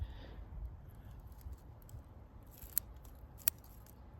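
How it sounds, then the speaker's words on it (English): Bonsai scissors snipping through redwood sprout foliage outdoors, a few faint quiet cuts with two sharper metallic snips standing out against low background noise. "I'll just do that with the bonsai scissors"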